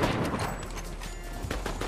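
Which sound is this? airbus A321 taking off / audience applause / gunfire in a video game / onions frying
gunfire in a video game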